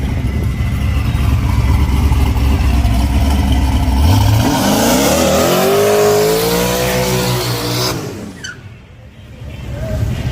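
A tuned car engine revs loudly and steadily, its pitch sweeping up and down as it spits, then drops off sharply near the end before building again.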